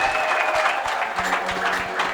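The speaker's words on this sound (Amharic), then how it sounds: "ማን ነው እልልታ ጭብጨባ ያለው ለዚህ አትሌት?" A church congregation claps steadily throughout, a dense near wash of applause from a crowd with a faint high trilling ululation carried above it.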